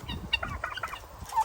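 Turkey gobbling near a bird pen, a quick burst of throaty, rattling calls mixed with other fowl clucking, short and close with no talk.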